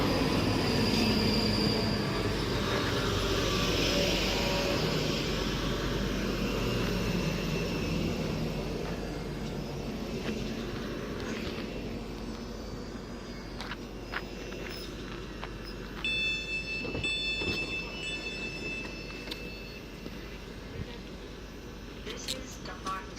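Class 334 electric train at Dumbarton Central station on an Edinburgh Waverley service, loud rumbling and whining as it moves through the platform, fading gradually, with high wheel squeals and station sounds toward the end and voices nearby.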